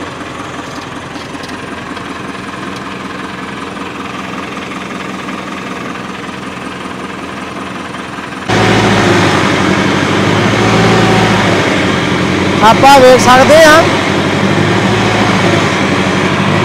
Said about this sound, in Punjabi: ਪੂਰੇ ਸਪਰਿੰਗ ਲਾ ਕੇ ਟਰੈਕਟਰ ਚੱਲ ਰਿਹਾ ਵਾ